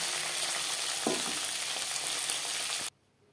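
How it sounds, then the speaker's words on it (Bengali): Small fish frying in hot oil in a pan, a steady dense sizzle that holds loud and even for close to three seconds, with a brief stir near the middle, then cuts off abruptly to silence. "ছোটো মাছ অল্প অল্প করে ভাজলেই ভালো হয়, ভেঙে যাওয়ার সম্ভাবনাও কম থাকে।"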